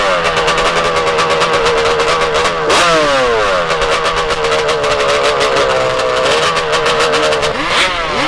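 Motorcycle engine revving hard nearby, loud continuous buzzing roar with repeated rising and falling pitch sweeps as the throttle is opened through the gears.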